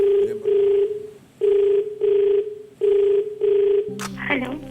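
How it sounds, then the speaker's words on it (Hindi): A telephone rings out on the KBC quiz show, three paired bursts of ringback tone repeating evenly before the call connects and a voice begins. "इनको फोन लगाया जाए।"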